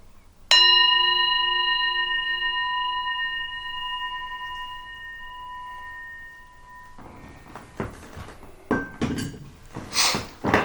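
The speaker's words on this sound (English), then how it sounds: "Let's ring the bell." A single bell strike rings out clearly and decays slowly over several seconds, followed by a few clattering knocks and rustles.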